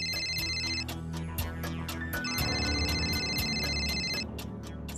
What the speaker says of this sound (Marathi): सामीचा फोन आहे.